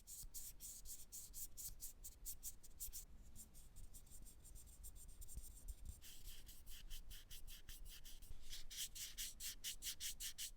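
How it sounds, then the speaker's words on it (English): Fingers rub the matte black body of an Insta360 GO 3 Black action camera, making a soft, steady rustle that stays close and quiet the whole time, with no voices. "The Go 3 Black makes a tiny rustle compared to the white version when you rub it"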